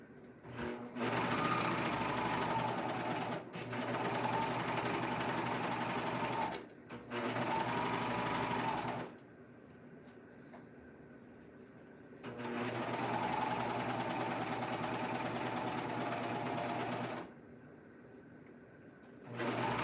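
A serger overlocking fabric for an apron runs in long steady bursts with a dense mechanical whir, pausing briefly between runs, loud and close with no voices.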